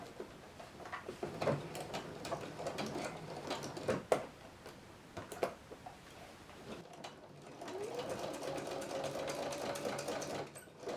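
A sewing machine stitches a dart in plush shirt fabric, running in steady bursts of close rapid needle chatter with brief pauses, clicks and handling sounds between runs.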